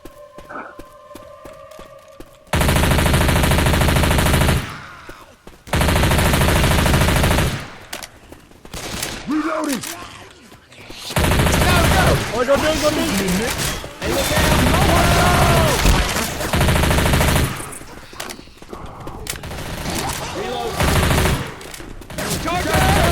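Gunfire in the zombie shooter Left 4 Dead 2, loud bursts of rapid shots in several stretches separated by brief quieter gaps, with voices talking over parts of it.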